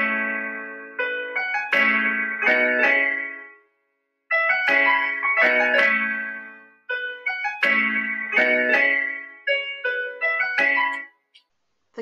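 Piano beat pattern with every note entered individually in music software, playing as repeated bright chord phrases in a steady programmed rhythm with short gaps between bars, alone with no voices.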